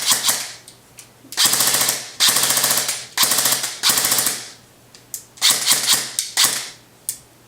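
Upgraded Echo 1 M4 Platinum Edition airsoft gun test firing on a 7.4 V LiPo battery, a series of close, rapid full-auto bursts of varying length separated by short pauses and a few single shots.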